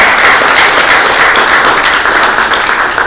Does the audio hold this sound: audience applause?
yes